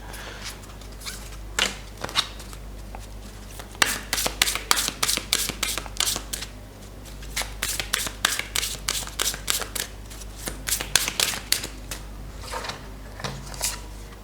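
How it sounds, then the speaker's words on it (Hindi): Tarot cards shuffled by hand for a reading: quick, crisp riffling bursts of card flutter, close and clear, pausing briefly between rounds. "हम लोग करते हैं कार्ड्स को शफल और देखते हैं आपकी होगी लव मैरिज या फिर आपकी होगी अरेंज मैरिज।"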